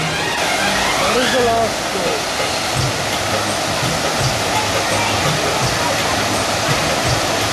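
Steady rushing water from fountains and waterfalls in a Mughal-style garden in India fills the whole stretch with a constant broadband roar, with faint voices and low rumbles underneath.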